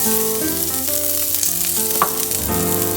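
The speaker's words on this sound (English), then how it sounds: "So I'm starting with some garlic in here in a pan." Garlic sizzling in a pan before beef goes in for japchae, a bright steady frying hiss with a few light clinks and stirs, close up, over faint background tones.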